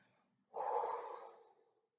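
A single deep inhale through the nose during a guided relaxation exercise for a class: one close, breathy airy rush about a second long that swells and then tapers off, with no talking over it.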